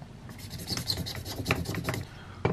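Old thermal paste is scrubbed off an Xbox 360 heatsink, giving close, uneven rubbing and scratchy scraping strokes in quick repetition, with no talk.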